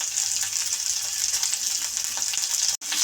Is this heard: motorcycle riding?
no